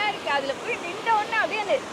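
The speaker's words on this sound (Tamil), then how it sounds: "அந்த தண்ணி வந்து ஃபோர்ஸாக வந்து விழுதுங்க" A forceful waterfall pours down in a steady roaring wash, heard close beneath a person talking almost throughout.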